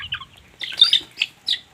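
Chickens in a backyard cluck and chirp in short, separate bursts, several calls close by over a quiet background with no talking.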